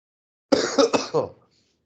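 A single short, rough cough or throat-clearing burst from a man with a cold and congestion, close and fairly loud, followed by silence.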